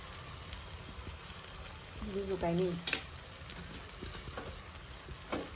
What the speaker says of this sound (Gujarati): એક ડીશમાં બધું કટિંગ કરીને વઘાર મારી દેવાનો